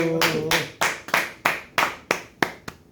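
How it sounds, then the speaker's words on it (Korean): Roughly eight slow, loud claps follow one another at a steady pace, strongly echoing in a hall, as a small group applauds at the close of a lecture; a brief voice is heard at the start. "박수"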